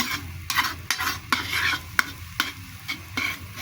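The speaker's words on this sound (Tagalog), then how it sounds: "ako iprito muna ng isasahog ko na itlog." An egg fries in a pan and is stirred with a utensil, giving steady soft sizzling under repeated scraping strokes at a brisk, irregular rhythm, close and moderately loud with no talking.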